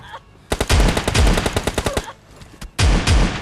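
S686 shotgun gunfire in the PUBG Lite video game comes as loud, close bursts of rapid, cracking shots in two volleys with a short lull between them.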